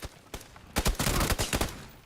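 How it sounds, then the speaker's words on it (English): Bursts of gunfire from PlayerUnknown's Battlegrounds on Xbox Series X, a couple of isolated shots followed by a rapid volley of sharp cracks, moderately loud within the game mix. "I heard the gunshots"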